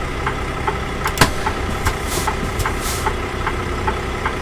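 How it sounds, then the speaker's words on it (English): A truck engine idles steadily in the American Truck Simulator game, a constant mid-low rumble with faint periodic clicks and ticks over it, no one speaking. "Shut off the engine."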